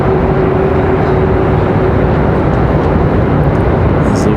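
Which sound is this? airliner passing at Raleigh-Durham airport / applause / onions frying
airliner passing at Raleigh-Durham airport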